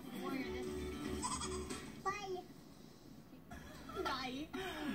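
Goats bleat during an outdoor goat yoga class, with several short, wavering calls popping up between steady chatter from adults and children nearby.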